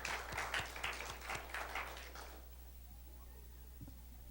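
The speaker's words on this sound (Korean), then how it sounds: "우리 박수로 한번 격려하겠습니다." Korean church congregation applauding the choir after a hymn, a brief wash of clapping that fades out after about two seconds, leaving quiet room tone.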